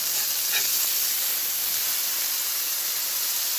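A burger patty sizzling on a hot griddle after a flip, a loud steady hiss of frying fat running throughout, close and uninterrupted.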